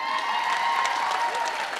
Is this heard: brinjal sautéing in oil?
no